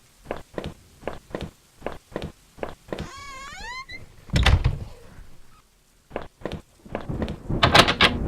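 Footsteps tap in an even rhythm in the video game Home, then a door grinds open with a wavering creak, followed by a louder rumbling thud and more steps.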